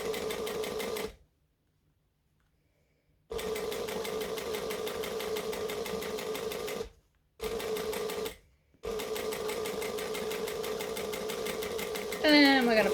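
A sewing machine back-stitches a bag in steady rapid bursts, with two short pauses between runs and a brief louder clatter at the end.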